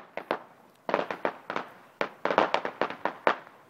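Neighborhood fireworks on Halloween in Vancouver crackle in sharp bursts, a string of loud separate pops and bangs with short gaps between them, fairly close and echoing.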